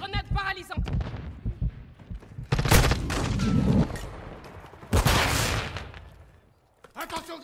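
Repeated bursts of enemy gunfire ring out across a Call of Duty battle, loud volleys that come in clusters, with shouted voices talking in between and over the shots.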